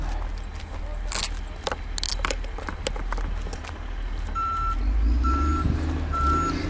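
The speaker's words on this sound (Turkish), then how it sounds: "Şurada kepçe çalışıyor" An excavator works at night with a truck-like engine drone, while its reversing alarm gives evenly spaced beeps toward the end, heard from a short distance.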